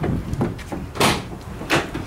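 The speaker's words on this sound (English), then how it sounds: "Both of these doors swing open," Rear doors of a 2017 Ford Transit T-250 medium roof van swing open, giving a few dull knocks and latch thunks spaced over two seconds, close by, with no talking.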